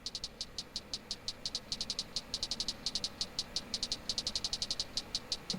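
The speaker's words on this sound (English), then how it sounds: "so then I have this hi-hat pattern." A hi-hat pattern in a produced beat, crisp rapid ticks repeating in a steady, busy rhythm with a low murmur underneath, loud and close with no other instruments prominent.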